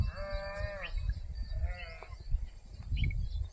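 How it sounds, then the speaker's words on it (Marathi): Goats bleating from somewhere below, outdoors in a residential area: two or three drawn-out, wavering bleats, moderately distant, over steady low wind rumble with no talking. "भेर बकरीचा आवाज आहे खालून"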